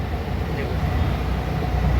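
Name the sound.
Kasara local train at Dadar station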